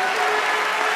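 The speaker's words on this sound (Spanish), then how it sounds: "Dale aplauso al Señor." A church congregation applauds during a worship service, a steady, dense wash of clapping that is loud and close throughout the short moment.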